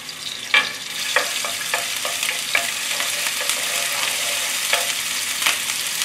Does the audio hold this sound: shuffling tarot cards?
no